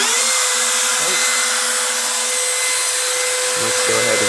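The spindle on an OpenBuilds CNC router runs loud and steady close by, a continuous high whine with broadband hiss, while a voice talks faintly underneath it.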